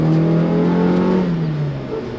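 An AE86's 1.6 engine revs under load while driving, a loud, close buzzing drone that climbs then eases off as the revs fall, heard alone without talk.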